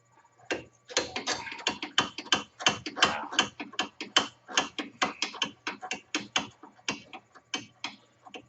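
An 8 mm and 10 mm gear wrench ratchets close by in quick bursts of sharp, regular clicks, during removal of an A-arm and axle from a 2008 Arctic Cat.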